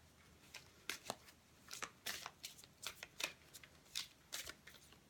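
Oracle cards are shuffled quietly and up close, with a series of crisp riffling bursts in an uneven rhythm and no talking.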